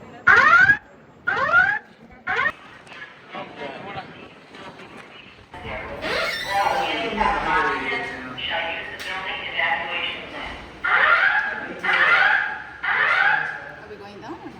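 A building fire alarm sounds at the Statue of Liberty, with repeated loud electronic whoops and tones alongside a spoken evacuation announcement over the public address system and some background voices.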